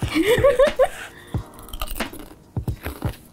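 Crispy, thin Japota seaweed-flavored potato chips crunched between teeth up close, a quick burst of loud crackly bites followed by sparser, softer chewing crunches.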